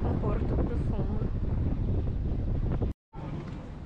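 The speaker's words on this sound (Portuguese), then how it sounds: "Ventando bastante" Heavy wind buffets the microphone in a constant roaring rumble on a bridge in Porto, Portugal, broken by a brief dropout near the end before the gusting noise resumes.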